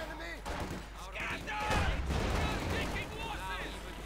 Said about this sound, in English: Shots fired, missed.